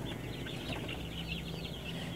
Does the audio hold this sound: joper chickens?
yes